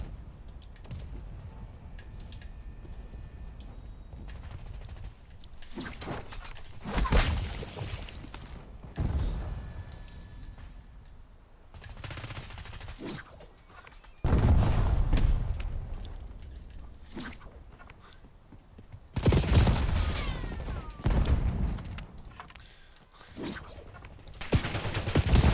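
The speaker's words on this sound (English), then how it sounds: "They're just shooting at me." Video game gunfire in a shooter match, with repeated bursts of automatic shots and sharp cracks coming in clusters, some loud and close, amid keyboard-like clicking and game noise, with no talk.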